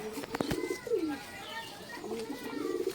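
Madrasi giribaz pigeons in a home loft coo in soft, low, rolling calls, with a few sharp knocks and light rustling nearby.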